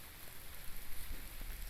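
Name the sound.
rain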